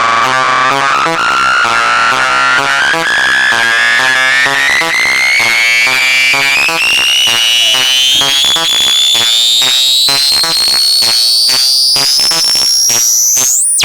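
Xaoc Devices Belgrad filter driven into a screaming resonance, a loud piercing tone sweeping steadily upward in pitch over a buzzing, pulsing synth pattern, ending in a sharp high squeal, with no voices.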